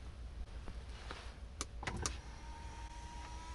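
The electric rear blind of a Porsche Panamera e-hybrid runs inside the cabin, a soft steady motor whine with a few small clicks and taps, faint over a low hum.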